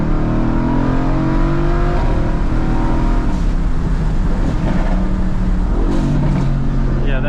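A tuned 2017 Mercedes-AMG GT with upgraded turbos accelerates hard, its engine droning loud and close from inside the cabin with rising pitch through quick gear changes.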